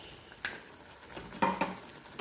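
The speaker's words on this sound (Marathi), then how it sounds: "साधारण ह्याला 5 मिनिटं आपल्याला असंच कमी आचेवर शिजवून घ्यायचं आहे" Spinach purée thinned with a little water cooking on a low flame in a pan for palak paneer: quiet soft bubbling with a few brief spattering pops and a light scrape, close but faint.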